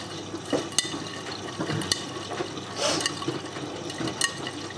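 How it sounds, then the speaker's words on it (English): A Miele W562 washing machine fills with water on a woollens cycle at 40°C, giving a continuous rushing, splashing flow with small gurgles, fairly close and steady. "Let's get the water level going up."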